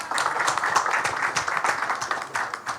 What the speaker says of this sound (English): please give a huge round of applause for all our esteemed dignitaries with us